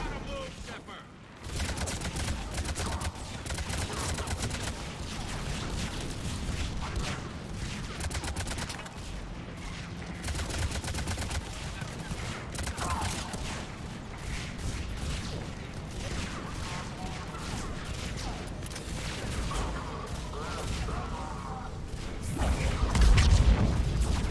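Dense gunfire and explosions from the video game Mass Effect Legendary Edition pour out in a continuous loud barrage of rapid shots and booms, with a heavier blast near the end.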